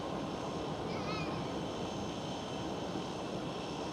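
A LOT Polish Airlines airliner in retro livery passes at Schiphol Amsterdam, a broad steady engine roar filling the scene at constant loudness, with a faint whine briefly rising over it.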